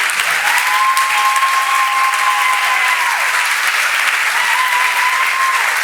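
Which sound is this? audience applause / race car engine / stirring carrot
audience applause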